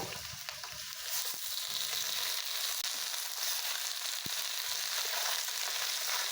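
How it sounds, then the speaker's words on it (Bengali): Mutton pieces drop into a pan of fried onions for a Bengali-style curry, setting off a steady, fairly quiet sizzle after a brief clatter at the start, with a faint stir or two and no talking. "আমি এখন এই পেঁয়াজ ভাজা হয়ে গেছে মাংসগুলো দিয়ে দেবো"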